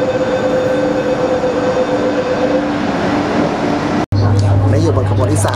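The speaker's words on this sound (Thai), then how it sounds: "หลังจากขึ้นตอนนี้เราขึ้นรถบนบกแล้วนะครับ" Loud, steady rumble and rattle of an above-ground train running in Hong Kong, heard from inside the carriage, with a brief cut near the end before a deeper low hum continues.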